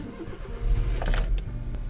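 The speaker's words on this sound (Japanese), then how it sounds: "よし、エンジンかけます。" A car engine starts with a low cranking rumble that catches and settles into a steady idle, close by and loud, with a faint metallic jingle of keys as the ignition turns.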